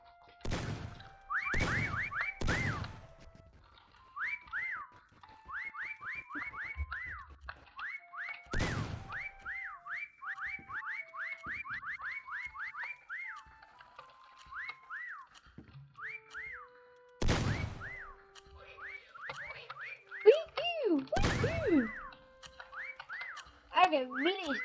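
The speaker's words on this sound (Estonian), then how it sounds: "ärge vilistage nii palju" Several people whistle rising and falling tunes over and over, with loud sharp knocks breaking in now and then. Nobody talks.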